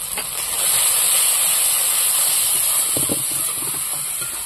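Spices sautéing with salt and turmeric for a village-style tengra fish oil-chili curry give off a loud, steady sizzling hiss that holds throughout, with a few faint clinks underneath.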